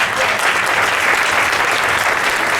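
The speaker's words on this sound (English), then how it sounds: "let's give them a big round of applause" A dense, steady round of applause from a crowd, loud and sustained throughout with no pauses.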